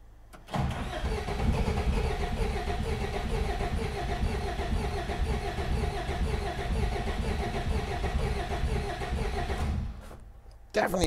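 A rusty, non-running classic Peugeot 404 pickup cranks on its starter, a steady churning engine roar that holds loud and close for about nine seconds before cutting off.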